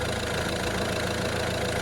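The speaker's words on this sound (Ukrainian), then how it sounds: "Це робота двигуна, фактично на холодну, я його тільки запустив." A 2011 Peugeot Partner 1.6 diesel engine idles cold just after starting, giving a loud, constant, even rumble with a faint rhythmic diesel clatter throughout and no voices.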